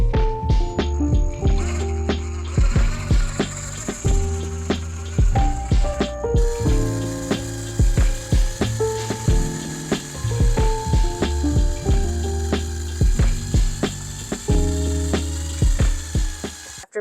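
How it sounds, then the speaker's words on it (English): A drill with a paddle mixing attachment churns tile mortar, producing a continuous motor whine close by with repeated scraping and rubbing pulses as the paddle turns through the thick mix. "I have a drill attachment, so I'm going to use that and slowly do that for 5 to 10 minutes."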